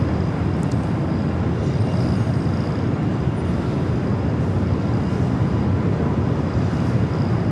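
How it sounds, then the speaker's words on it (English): Frontier Airbus A321neo in green livery rolling for a south side takeoff at LAX, heard as a steady, broad jet engine roar that holds at the same level throughout with no voices. "that Frontier A321neo in the green livery continuing down for a south side takeoff as well, heading to Atlanta"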